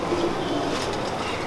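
A pigeon kept by a fancier gives a low, throaty coo close by, a brief rolling call over a faint background hum, with no talk over it.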